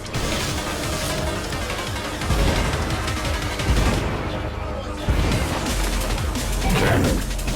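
Weapon fire in the anti-gravity racing game Wipeout Omega Collection, with dense bursts of plasma shots and crashing impacts over a constant roar of racing engine noise, loud and continuous throughout.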